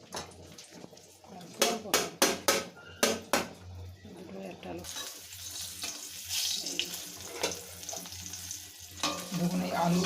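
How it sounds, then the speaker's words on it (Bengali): Onion and ginger go into a hot pan for egg curry, with a run of sharp clanks and stirring knocks followed by a steady sizzle of frying. A voice talks over the cooking. "আমাদের পেঁয়াজও ছাড়ানো হচ্ছে, আদা আদা আদা তো আদা এখানে ছাড়ানো হচ্ছে।"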